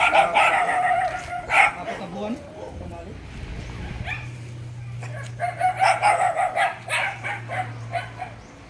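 Roosters crow repeatedly at a gamefowl farm in Tanauan City, while dogs bark and whimper close by and people talk over the clamour.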